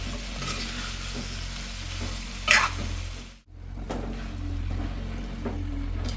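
Mango pickle gets stirred and mixed in a pan, with soft scraping strokes over a steady sizzle; one louder scrape stands out just before a brief drop to near silence, after which the quiet stirring continues.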